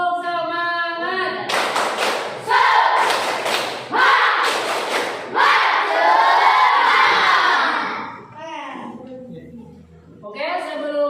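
A classroom group does a rhythmic spirit clap, loud and close, with bursts of children shouting and cheering over the clapping and an adult voice leading.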